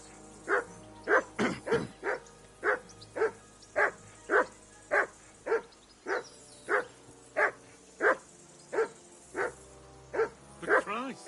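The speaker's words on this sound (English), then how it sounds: "call off that damn dog before he wolfs down Tankard" A dog barks in Kingdom Come: Deliverance 2, a long run of sharp, evenly spaced barks, close and insistent, some coming in quick doubled bursts, over a quiet low backdrop with faint voices beneath.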